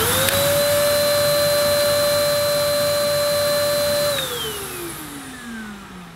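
A Dyson DC03 vacuum cleaner runs loud and steady with a high whine, then powers down at the end and its pitch slides away as the motor winds to a stop.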